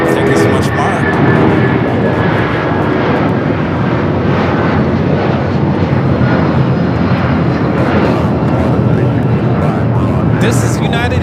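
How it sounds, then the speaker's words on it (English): A United Airlines Boeing 757-200 bound for Newark roars continuously on its takeoff run, loud and sustained for the whole stretch, a broad engine rumble with a faint whine on top. "This is United Airlines 1939 taking off to Newark on the 757-200"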